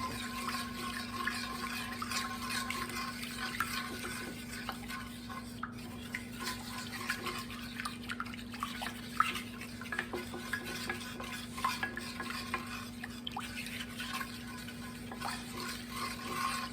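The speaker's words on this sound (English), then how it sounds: "I'm just going to give this a really good stir with my wooden spoon." Wooden spoon stirring white bread dough in a bowl, a steady scraping and swishing that runs continuously at close range, with a constant low hum underneath.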